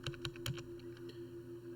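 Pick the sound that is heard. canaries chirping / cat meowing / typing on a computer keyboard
typing on a computer keyboard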